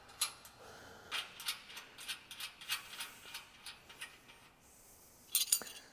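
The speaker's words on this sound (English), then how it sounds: "And tighten the nuts against themselves." Nuts and a jam nut are tightened on a metal frame during assembly, producing a series of sharp metallic ratchet clicks and ticks in short bursts, then a quick louder rattle of clicks at the end, with no talk.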